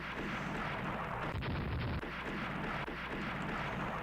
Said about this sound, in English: Keep those 6-inch guns firing, please.